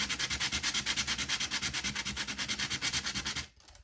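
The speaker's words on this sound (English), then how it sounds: "And what I do is just give it a light sanding." Light hand sanding of a Herring compact watercolour palette, a rapid rhythmic back-and-forth rasp of about eight strokes per second, close and steady, stopping just before the end.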